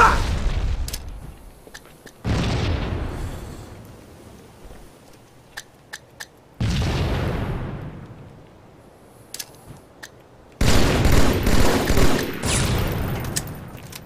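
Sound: grenade explosion and gunfire in a video game

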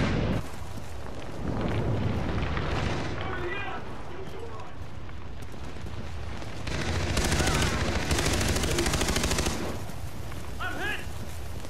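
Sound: barrel bombs exploding amid gunfire in video game Far Cry 3

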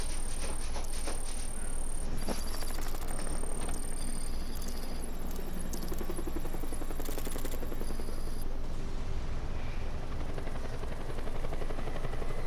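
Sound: helicopter in video game Batman Arkham Knight

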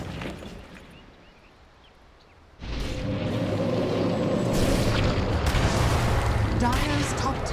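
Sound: Dota 2 video game tower being destroyed

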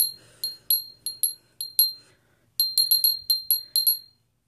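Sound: small altar bell rung for purification

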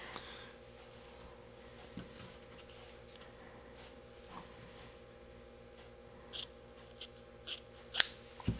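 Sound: scissors cutting strands of Samson Vortex double-braid rope

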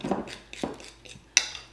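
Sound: stirring milk and oil into dressing batter

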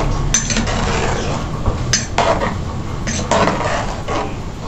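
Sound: stirring huaxmole sauce in a pot

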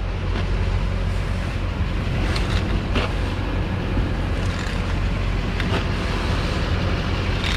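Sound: towed Jaguar XS car driving into the shop

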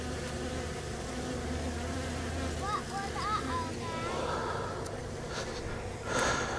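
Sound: bees buzzing

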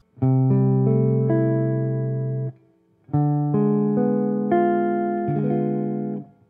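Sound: guitar playing a diminished chord

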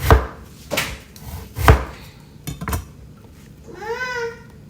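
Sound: chopping eggplant into thick pieces

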